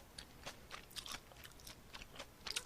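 Bibim cold noodles eaten on a mukbang eating show alongside pork belly salad, with soft wet chewing and slurping bites repeating in an irregular rhythm, close to the mic and fairly quiet, with no talk.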